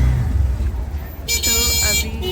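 Ride in an auto rickshaw through traffic, with a steady low engine rumble throughout and a sustained car horn honking in the middle, followed by more vehicle noise.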